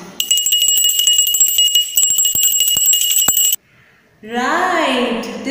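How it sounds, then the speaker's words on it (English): A bell rings continuously with bright sustained tones for about three seconds, then stops; a voice speaks briefly afterward. "this is the sound of a bell"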